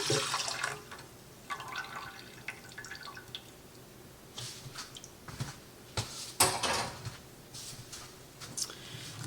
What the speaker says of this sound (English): so I'm going to pour the yeast mixture in